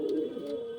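A young loft pigeon gives a single short, low coo, close and alone.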